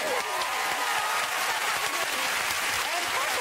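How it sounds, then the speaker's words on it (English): A studio audience applauds the drummers after a performance on a TV talk show, dense sustained clapping from a large crowd throughout, loud and even. "a round of applause for all those drummers"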